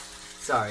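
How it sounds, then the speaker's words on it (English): Oil bubbling and sizzling while ramen cooks in a virtual bakery game, a short loud burst of frying that swells after a brief spoken word. "the oil is actually kind of bubbling right now"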